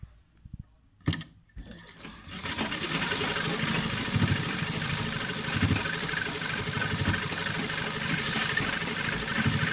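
Sewing machine running steadily as it stitches a second line of double stitching along a trouser seam, a continuous close mechanical whir after a few brief starts, with no talking.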